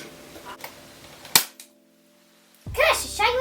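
A cap gun fires once at a buzzing fly, a sharp close crack standing out against quiet room tone, followed by a short pause and then someone speaking.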